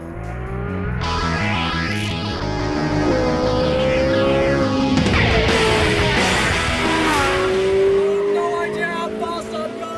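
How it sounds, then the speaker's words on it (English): A Ferrari 458 Italia's engine roars continuously, its pitch climbing through the gears to a 9,000 rpm redline with brief dips between shifts, accompanied by tire noise. "The big engine redlining all the way to"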